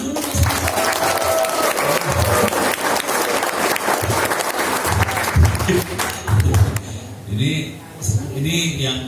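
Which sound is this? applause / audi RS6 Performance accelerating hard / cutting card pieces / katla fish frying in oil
applause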